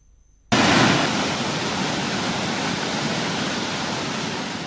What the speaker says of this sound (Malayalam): വനത്തിലൂടെ ഒഴുകിയെത്തി പാറക്കെട്ടുകളിൽ നിന്നും താഴേക്ക് പതിക്കുന്ന വെള്ളച്ചാട്ടത്തിൽ